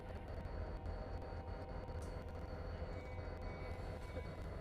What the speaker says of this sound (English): Now there's the North Shore Scenic locomotive rolling by.